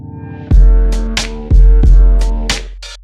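A chopped beat built from Russian jazz ensemble samples, drums stripped of their low end, hits in a steady pattern of sharp strikes about once a second, loud and up front.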